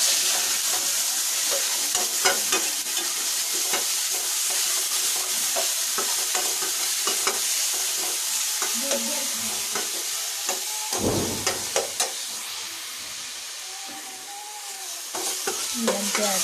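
Chopped onion frying in oil over a browned cumin tadka, a steady loud sizzle close by with the scrape of stirring running through it, and no voices.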